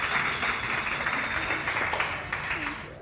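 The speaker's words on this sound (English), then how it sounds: "can we just give Rochelle a round of applause?" A live audience applauds for Rochelle at an ESE training session, a steady wash of many hands clapping that holds for the full three seconds, fairly close and dense.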